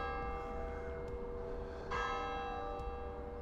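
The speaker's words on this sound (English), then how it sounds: "The church bells in here in the background of St. Cuthbert" Church bells of St. Cuthbert in Blyth ring in the background, clear sustained tolls with long humming overtones over a low outdoor rumble.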